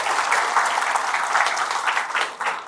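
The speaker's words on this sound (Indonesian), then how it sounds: "Kita berikan tepuk tangan dulu buat mereka." Applause from an audience at a charity event honouring a medical team, steady and fairly close, a continuous wash of many hands clapping without talk.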